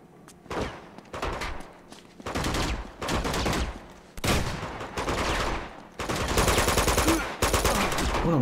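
Bursts of automatic gunfire and single shots from Uncharted 2 on PS4, loud and repeated in clusters with short gaps, a sustained barrage near the end.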